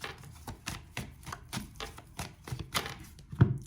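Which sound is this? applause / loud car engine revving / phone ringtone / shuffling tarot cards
shuffling tarot cards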